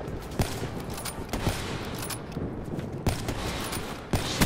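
Gunshots in Black Ops 3 crack out as loud, sharp reports at irregular intervals over a constant rumble of battle noise, several distinct shots across the stretch.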